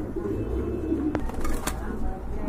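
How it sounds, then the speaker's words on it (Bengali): A pair of pigeons at a seller's loft coo softly among background bustle, with a brief sharp click partway through and some faint speech-like sound. "এখানে কিন্তু খুব ভালো মানের এক জোড়া কবুতর আছে ভাই"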